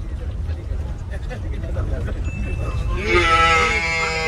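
A voice imitates a calf's bleat, a drawn-out nasal tone near the end, after a stretch of background crowd murmur.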